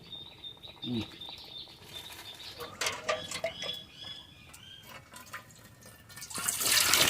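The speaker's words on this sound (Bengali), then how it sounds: "আলুগুলো কেটে নেবো বলে জল দিচ্ছি।" Water is poured over potatoes in an outdoor village kitchen, ending in a swelling splashy pour after scattered handling knocks, while birds chirp nearby.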